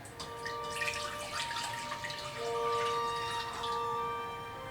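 Water runs and splashes into a pot, 500 ml, its tone rising steadily as it fills, with a faint ringing hum underneath.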